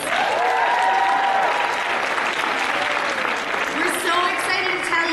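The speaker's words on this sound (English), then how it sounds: "so give yourself a round of applause." A large Comic Con convention crowd applauds continuously, loud and steady, with dense clapping, some cheers and a few whoops rising over it throughout.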